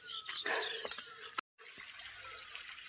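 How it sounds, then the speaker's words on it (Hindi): Water in a mountain stream in the Uttarakhand hills flows and trickles steadily close by, with a brief dropout partway through before the gentle flow continues. "पानी की आवाज़ आ रही होगी आपको।"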